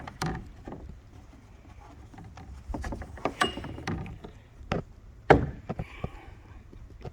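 A rope pulled to drop and raise the rudder on a Hoodoo Impulse 120 kayak gives scattered close knocks, rattles and clicks of rope and fittings against the hull, irregular and fairly quiet.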